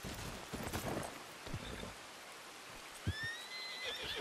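A horse whinnies briefly in Red Dead Redemption 2 Online, a faint, thin call rising over a steady rain-like hiss, with a few soft thuds scattered around it.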